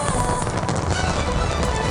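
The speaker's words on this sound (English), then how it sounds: "the fireworks are shooting up from the boats and going crazy too" New Year fireworks fired from boats over a harbour crackle and pop in a dense, continuous barrage, loud and unbroken throughout.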